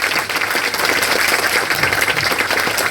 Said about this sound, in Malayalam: നല്ലൊരു കയ്യടി കൊടുക്കും ഇവർക്ക്.